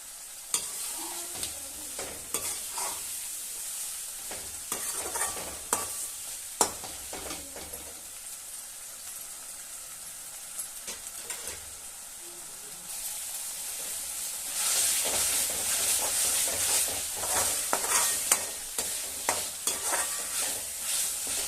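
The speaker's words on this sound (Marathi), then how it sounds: "आता या मसाल्याला चांगलं या तेलामध्ये भाजून घेऊया." Chicken masala frying in oil in a pan for spicy country-style chicken, a soft steady sizzle broken by repeated scraping stirs, close and fairly quiet, growing louder and hissier near the end, with no talk.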